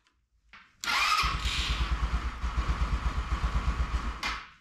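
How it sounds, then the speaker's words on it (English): A cheap Chinese scooter engine cranks and catches, then runs in a rough, uneven idle with a pulsing putter that sags and surges before revving briefly near the end, close and fairly loud. "The scooter starts, but it's having some trouble with the idle."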